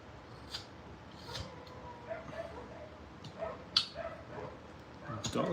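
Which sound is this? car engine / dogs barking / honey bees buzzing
dogs barking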